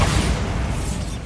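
Bombarda blasting spell from a Harry Potter video game: a heavy, booming burst that hits at once and rolls off into a rumbling, gradually fading roar.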